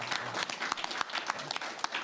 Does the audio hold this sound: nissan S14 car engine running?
no